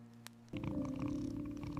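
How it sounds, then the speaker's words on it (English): A cat purrs close by, a soft steady rumble that starts abruptly after a brief quiet moment and continues evenly. "Purring doesn't just come from joy, it also comes when something is missing."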